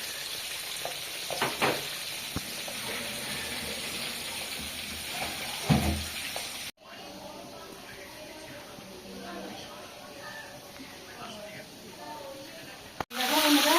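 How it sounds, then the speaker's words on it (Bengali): Soft sizzling of pangas fish frying in oil runs throughout with occasional clinks, and a voice talks faintly over it. "এখানে মাছটা ভেজে নিচ্ছি"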